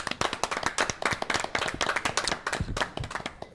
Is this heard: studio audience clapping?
yes